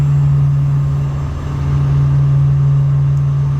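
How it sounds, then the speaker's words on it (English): An old RV's onboard generator runs steadily after starting up on a winter day, a loud, constant low drone with a slight dip in level partway through, heard alone. "what I'm going to attempt to do here is to start up the generator"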